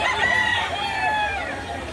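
A rooster at a chicken market in Lipa City, Batangas, crowing in one long drawn-out call, close and clear over a low murmur of background noise.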